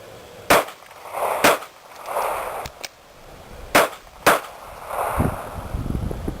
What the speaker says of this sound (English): so we want to shoot a couple rounds and then go into an emergency mag change.